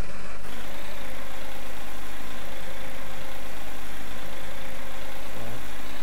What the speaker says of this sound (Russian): Винстон 600, по-моему, у нас трактор называется.